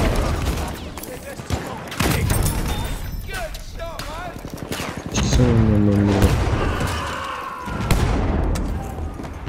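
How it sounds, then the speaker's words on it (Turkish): Battlefield 1 combat with a tank firing its cannon amid crackling rifle and machine-gun fire, loud booms and bursts layered densely throughout, with voices talking over the battle. "Ama tank sıkıyor yani."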